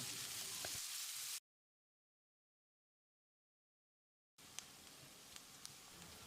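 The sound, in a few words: onions frying in pan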